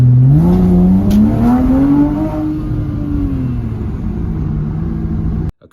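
Porsche driving into a Waitrose supermarket car park, its engine revving up with a rising pitch then settling into a steady hum nearby, cutting off abruptly at the end.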